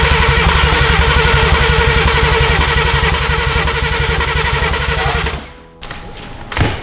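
Drift car engine cranking during crank sensor troubleshooting, a rapid loud rhythmic starter chug that runs for several seconds then cuts off, followed by a couple of faint thumps.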